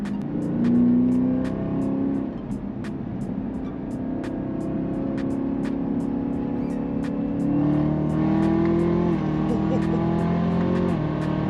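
A Chevrolet Camaro ZL1 engine holds a steady, close drone as the car accelerates, rising in pitch near the end, with people talking over it inside the cabin.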